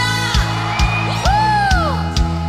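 Church congregation at a Sunday service shouting and whooping loudly together, a sustained roar of voices with rising yells and bursts of cheering over steady rhythmic low-pitched beats.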